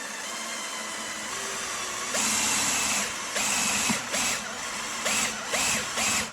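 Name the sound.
power drill slowly drilling into concrete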